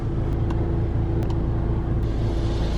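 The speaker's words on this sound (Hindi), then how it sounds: "गाड़ी जा रही है आगे, अभी आगे जा रही है गाड़ी" A car in neutral is pulled slowly forward through an automatic car wash, a close, steady low rumble with hissing water spray and a few brief sharp clicks and knocks, with no talking.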